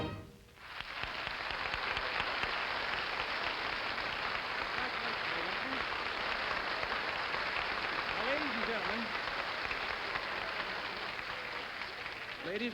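Sustained applause from an audience at a 1958 television academy opening event, a dense, even wash of clapping that holds steady throughout with no voices standing out.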